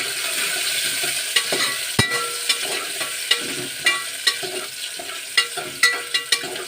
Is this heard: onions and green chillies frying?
yes